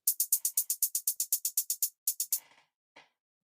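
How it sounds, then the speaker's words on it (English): A programmed drum machine hi-hat pattern ticks out a steady run of crisp, evenly spaced hits, briefly pausing before a few more strikes and a final clap-like snap, with no one talking. "What I'm going to do here is a hi-hat rhythm and some claps."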